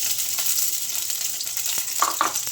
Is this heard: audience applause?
no